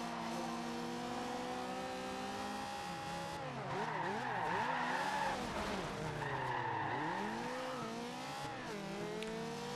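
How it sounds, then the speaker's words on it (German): Tires screech through a sustained drift in the Forza Horizon 2 racing game, the engine note swooping and warbling under a long, loud squeal that rises and falls across the corner. "Driften wir dann mal in die Kurve."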